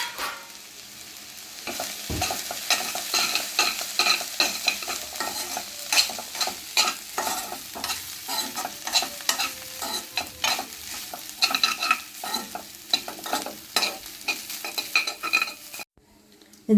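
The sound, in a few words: stirring cooked rice into fried rice in a pan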